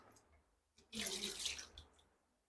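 Rice-washing water from the third rinse is poured into a pot of fish curry (kulambu), a soft splashing pour lasting about a second in an otherwise quiet room.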